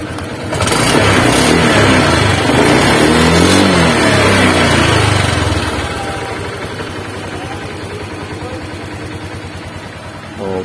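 A Honda Click 125i V3 scooter engine is revved hard and close, climbing and falling over several seconds before settling back to a steady idle, with someone talking over part of it.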